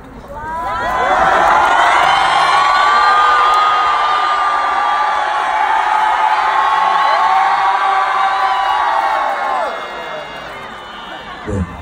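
A large concert crowd at a show shouts in one sustained, loud cheer that holds steady for several seconds, then gradually fades out near the end, with whoops and higher voices mixed in.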